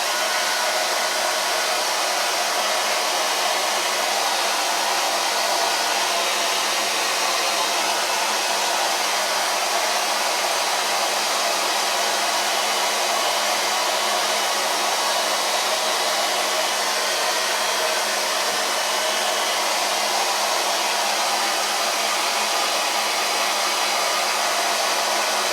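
A hair dryer blows steadily onto the hair roots while a gentleman's classic haircut is styled, a constant close whooshing roar with no break for the whole stretch.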